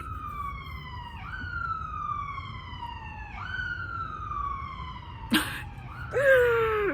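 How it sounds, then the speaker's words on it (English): A wailing siren outside rises and falls in long repeated sweeps at moderate distance, steady and prominent, with a sharp cough-like burst and a brief vocal sound near the end. "this siren is killing me"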